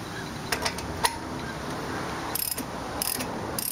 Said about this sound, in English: Get your ratchet.